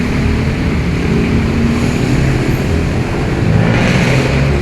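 A new motorcycle engine runs steadily and loudly throughout, a dense continuous roar close up with slight swells and no talk.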